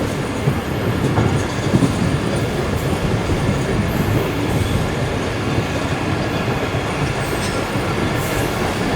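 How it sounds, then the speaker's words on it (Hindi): Karakoram Express train running past Malir railway station, a dense continuous roar of wheels and rattling cars with clickety-clack and faint squeals, loud and close throughout. "तो ये मली रेलवे स्टेशन को शिफ्ट कर रही है ट्रेन हमारी इस वक्त"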